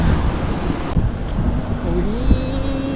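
Wind blows steadily outdoors near Odaiba, Tokyo, buffeting the microphone with a dense, continuous rush, with faint background sounds underneath.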